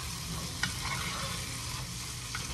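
Minced garlic, about two cloves, sizzles and crackles steadily in a hot pot while being stirred, a continuous close frying hiss with a few soft clinks of the utensil.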